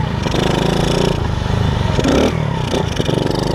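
A Moby moped engine revs hard and close, a loud rasping two-stroke buzz that rises and dips in repeated throttle blips.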